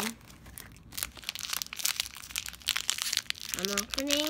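Crinkling and tearing of a Crossy Road blind box package as it is opened, a run of close, uneven crackles and rips, with a voice briefly rising in pitch near the end.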